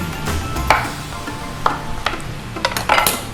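Salmon fillets seasoned with paprika cook in a pan, giving a soft steady sizzle broken by several sharp scrapes and clicks of a utensil against the pan, close and fairly loud, with no talking.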